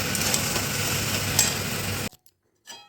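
Prawns being stirred through mustard paste in a frying pan, a steady close sizzling scrape for two seconds that cuts off abruptly, followed by brief faint clinks.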